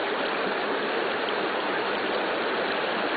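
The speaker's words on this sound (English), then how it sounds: "It's still bubbling all around it." Gas from a natural seep bubbles up through water, making a dense, steady rushing hiss of fizzing bubbles, close and continuous with no pauses.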